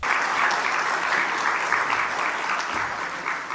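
Audience applause rolls through a political speech, likely for Jarosław Kaczyński, a thick, sustained clapping that stays loud and even with slight surges.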